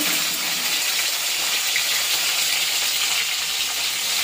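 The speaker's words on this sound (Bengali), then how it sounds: "এই যে আলুটা দেওয়া হয়ে গেছে, এখন দিয়ে দিচ্ছি পটলটা, একসাথেই ভাজা করে নেব" Potato and pointed gourd pieces fry together in hot oil with white cumin, producing a loud, dense, unbroken sizzle and crackle heard close up without any voices.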